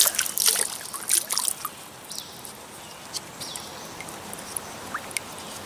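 Water splashes and trickles in bursts at the start as it pours into a Puritii emergency water filter, then settles into faint dribbling and occasional drips against a soft, steady hiss.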